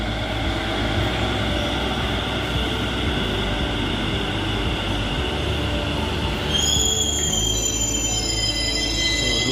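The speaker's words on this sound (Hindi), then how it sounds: "मेट्रो आ गई है, तो मैं अब इसमें जाने वाला हूँ" Metro train pulling into a station platform with a loud, steady rumble of wheels on rails. Near the end, high metallic squeals and tones rise as it slows to a stop.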